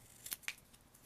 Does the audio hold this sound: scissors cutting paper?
yes